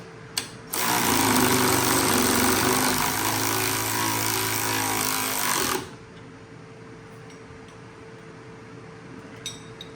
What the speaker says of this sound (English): We'll run it down. Ratchet first.